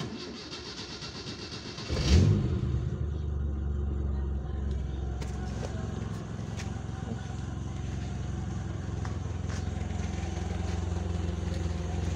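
A motorcycle engine starts with a loud burst, then settles into a steady, even idle rumble that continues close by without talk.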